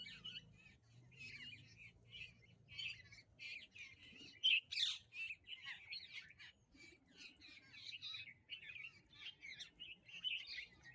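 Parrots and bulbuls chirp and squawk in a dense forest near Jagran Lakecity University, a busy, overlapping chorus of bright calls that runs throughout, with a few louder, nearer squawks standing out.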